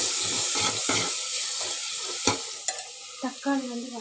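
Eggplant and ripe tomatoes fry in a pan, a steady sizzle broken by scraping stirs and a few sharp clinks and taps near the end, close and moderately loud with no talking.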